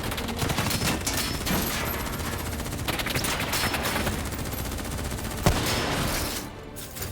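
Gunfire in the Call of Duty Black Ops 3 campaign, with dense sustained bursts of automatic weapons and scattered shots overlapping into a loud, continuous barrage that thins near the end.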